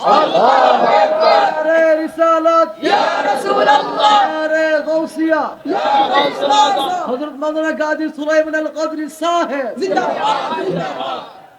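A large crowd at a Bengali Islamic sermon gathering shouts the takbir, Allahu Akbar, in unison, with loud, repeated chanted calls rising and falling in waves over about ten seconds.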